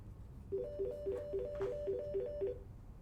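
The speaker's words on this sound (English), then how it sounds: "So sorry about the phone, and I'm going to answer in just a second." A telephone rings quietly in the background, a repeated electronic trilling tone pulsing steadily for about two seconds with no speech.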